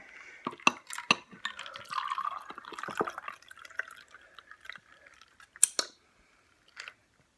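Bourbon pours into a glass with a soft, quiet trickle and a few small clinks and drips, close up and alone, tapering off into near silence.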